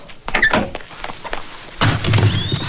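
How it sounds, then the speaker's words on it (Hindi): Indoors in a comedy movie scene, a window is shut and a door opened, giving a series of thuds and clunks, then a louder rattling thump, close by and with no talking. "खिड़की बंद कर, दरवाजा खोल।"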